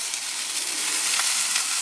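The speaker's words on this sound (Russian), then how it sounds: "Теперь мясо будет еще жариться вот так." Pork roasting on a mangal grill sizzles steadily and loudly, a continuous crackling hiss close up with no talking.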